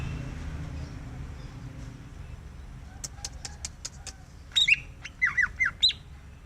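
A green leafbird calls in a park, giving a run of sharp clicking notes followed by several bright, whistled chirps over steady outdoor background noise.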